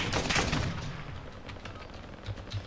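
Rapid gunfire from a weapon in an online shooter game, a quick burst of sharp crackling shots up front fading into scattered distant pops, with no talking over it.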